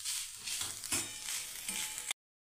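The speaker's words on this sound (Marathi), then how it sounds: "ह्या किसला आता आपल्याला थोडंसं भाजून घ्यायचं आहे।" Grated coconut roasts in a pan over medium heat, giving a soft, dry sizzle broken by a few scraping stirs before cutting off abruptly into silence.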